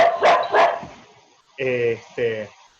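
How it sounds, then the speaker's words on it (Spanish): A dog barks twice in quick, loud, close succession, then after a short pause two more sharp barks ring out, standing alone without talk. "Justo me sonó el teléfono y la perra pido disculpas."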